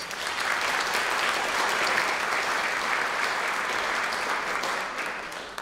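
Theater audience applause for sponsors at an arts center's 80th birthday celebration, dense, even clapping from a large crowd, loud and steady throughout.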